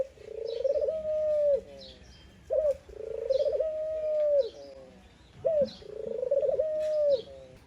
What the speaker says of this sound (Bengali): এইটা হচ্ছে অস্ট্রেলিয়ান প্রজাতির একটা ফিমেল গুগু পাখি